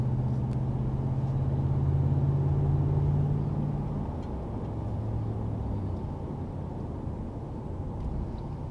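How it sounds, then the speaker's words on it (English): A 2022 RAM 1500 pickup with a KARNAGE Big Body Series 1 aftermarket muffler rumbles quietly while driving, a steady low exhaust drone easing slightly midway, heard from inside the cab without talk. "You hear the exhaust note, but it's very, very quiet."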